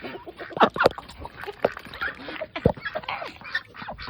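Several ducks quack in a busy, overlapping chorus nearby, short nasal calls tumbling over one another without pause.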